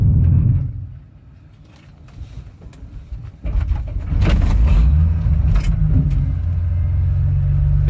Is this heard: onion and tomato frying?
no